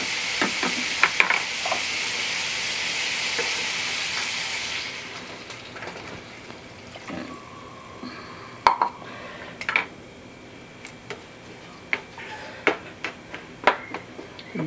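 Coconut milk simmering with squash and shrimp in a pot, a loud sizzling hiss that fades after a few seconds, followed by scattered clinks and stirring knocks against the pot.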